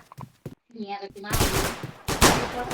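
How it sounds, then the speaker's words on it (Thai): Dense bursts of video game gunfire fill the second half, loud and broadband, coming in two heavy volleys after a brief quiet spell with short sounds and a tonal voice-like passage. "ปืนอะไรแรงจังเลย"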